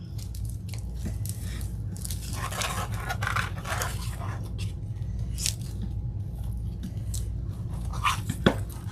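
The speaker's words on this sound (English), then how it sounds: "But you can hear it crunching." Deco mesh and jelly ribbon being twisted into a bow give off faint, close crinkly crunching and scraping bursts over a steady low background hum, with one sharper snap near the end.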